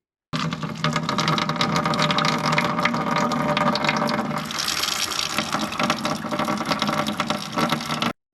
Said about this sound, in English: Let's get the tap on and we'll see if we're going home now.